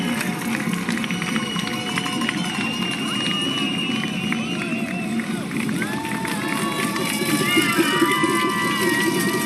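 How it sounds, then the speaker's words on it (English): Crowds cheer and clap along the Berlin Marathon course, a dense, continuous wall of noise with shouts and whistles rising above it, steady and loud from start to finish. "Crowds out in really good numbers"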